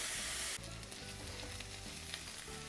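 Onion and carrot fry in a pan for fried rice, a dense bright sizzle that drops in level after a moment, leaving a softer continuous hiss with faint stirring scrapes.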